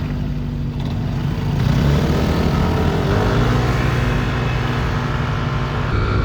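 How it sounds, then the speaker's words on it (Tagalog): Yamaha Aerox SP and Honda Click 160 scooters accelerating side by side in a race: a loud, sustained engine drone that rises steadily in pitch, heard up close throughout. "Malakas talaga umarangkada yung Aerox eh oh"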